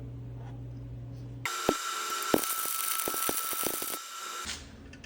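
A MIG welder's arc crackles and buzzes for about three seconds as a nut is welded onto a broken bolt at a higher voltage setting, starting abruptly after a quiet hum and then cutting off.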